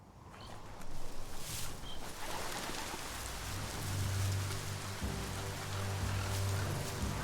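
Steady rain pours down in Biomutant, a dense broadband hiss of drops hitting surfaces that holds close and constant throughout, with a low droning game ambience underneath.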